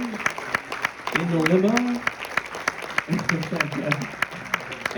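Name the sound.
audience applause at award ceremony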